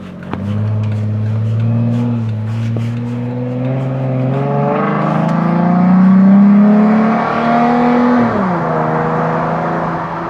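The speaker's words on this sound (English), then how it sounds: "We're just gonna see how raspy this thing is and just kind of wrap it out a little bit" A Jeep with a new raspy aftermarket exhaust pulls away and revs up through its gears, a loud, close engine drone rising in pitch, dipping at a shift, then climbing again, with no talking.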